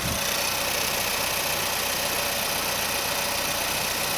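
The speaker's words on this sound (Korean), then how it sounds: "엔진은 들려드릴게요" A 2020 Renault Samsung QM6 SUV's 2.0 gasoline engine idles steadily up close, a constant even hum with a light mechanical rattle and no voices.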